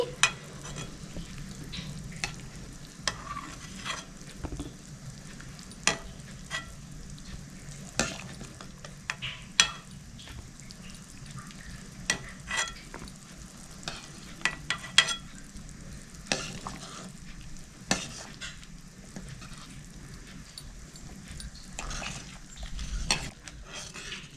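Chicken pieces lifted out of a frying pan while making chicken soup, with steady sizzling oil and repeated sharp scrapes and clinks of a utensil against the pan, fairly close and continuous.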